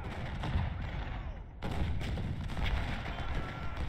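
Civil War battle in Ultimate General: Civil War, with distant artillery booms and scattered musket fire thudding over a continuous rumbling battlefield din, including one sharp blast midway.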